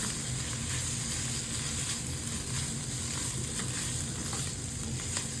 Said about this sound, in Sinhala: මෙහෙම බැද ගන්නවා.